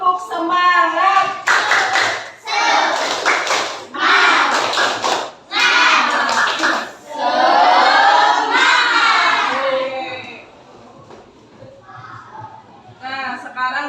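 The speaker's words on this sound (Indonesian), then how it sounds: "Oke, sekarang tepuk semangat." A classroom of pupils performs a rhythmic group spirit clap, with loud bursts of patterned clapping mixed with shouted chanting, repeated in several sections, then tapering to softer sounds at the end.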